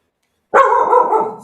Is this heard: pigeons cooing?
no